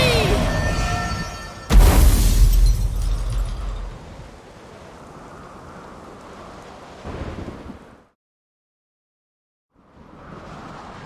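Thunderstorm in The Witcher 3, a loud thunder crack near two seconds rolling into rain and rumble that fades, then a brief swell, near silence and soft ambience returning, with some talk.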